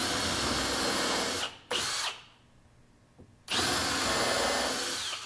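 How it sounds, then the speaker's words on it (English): A power drill with a countersink bit whirs loudly in two bursts with a short pause and a quiet gap between, the bit grinding into wood up close. "I'm going to pre-drill with my countersink bit"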